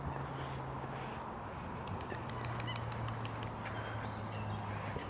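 Lakeside birds such as geese or ducks flutter and call near walkers, with faint wingbeats and a run of soft clicking over quiet outdoor background noise and a low hum.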